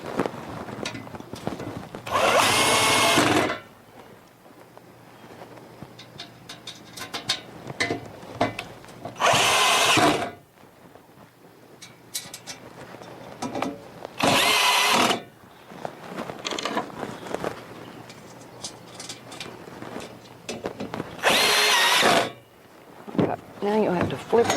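Power drill driving screws into holes while assembling a bender, four loud whirring bursts of about a second each at irregular intervals, close, with handling clatter and quieter gaps between.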